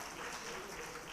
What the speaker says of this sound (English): a full house round of applause